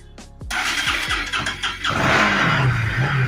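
A Bajaj Pulsar RS 200 motorcycle with a faulty MAP sensor cranks several times with short starter bursts before the engine catches late and settles into a loud, steady idle close by.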